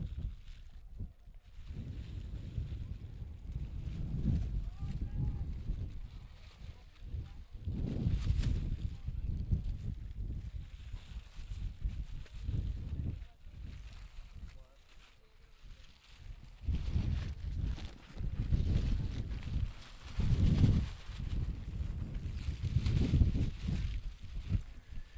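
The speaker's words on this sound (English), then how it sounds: "You're getting the full authentic experience with this wind here." Wind buffets a microphone outdoors at a junior varsity high school football game, producing heavy low rumbling gusts that rise and fall throughout, with faint crowd and game noise underneath.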